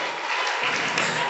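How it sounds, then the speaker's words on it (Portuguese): A church congregation claps during an evening service, a fairly faint but continuous wash of many hands clapping that swells slightly after the first half-second. "Aplauda o Senhor bem forte aqui nesta noite."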